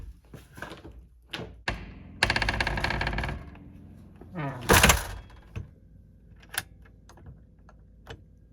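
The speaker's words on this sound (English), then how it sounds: "Actually, yeah, I'm gonna lock this door." A door at a solo overnight glamping site is handled and locked, with a scrape of the door moving, rattles and sharp clicks and knocks of the latch at close range, then a few scattered ticks.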